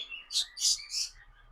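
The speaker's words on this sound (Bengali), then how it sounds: "আলিব ভাই জি ভাই দেখেন মাশাল্লাহ সুন্দর পাখিরা" Tame common myna birds give three quick, bright chirps in a row, close and clear against a quiet background, with no talking.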